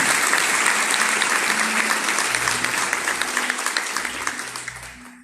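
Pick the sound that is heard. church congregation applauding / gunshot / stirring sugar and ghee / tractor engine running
church congregation applauding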